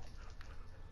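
A dog in the PlayStation 4 edition of Minecraft gives a brief, faint whimper over a low, steady game background, lasting under a second.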